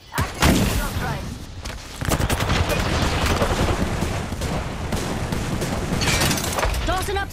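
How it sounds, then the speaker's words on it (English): Sustained light machine gun fire in Apex Legends, a long rapid burst of loud close shots after a few opening cracks, with other gunfire and game sounds layered around it. "They're shooting at me. Firing!"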